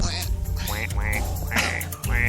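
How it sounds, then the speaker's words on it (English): A recording of geese plays on a radio talk show, giving several loud, close, nasal honks in quick succession. "It's been a while since we had the Hosmer geese on."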